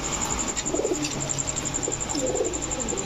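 Chila pigeons coo softly in a few low, rolling phrases against a steady hiss and a high whine, with no talking.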